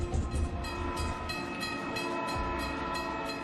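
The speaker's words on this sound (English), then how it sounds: "Emergency fuel gets passenger trains rolling again." A passenger train rolls along the rails, a steady rumbling drone with repeated wheel clatter and tonal hums, heard close and continuous with no voices.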